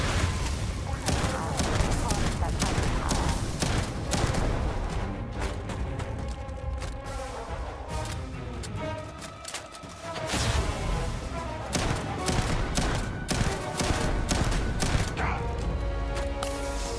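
Rapid enemy gunfire in a first-person shooter game, sustained bursts of loud shots over dense game noise and music, with talk layered over much of it.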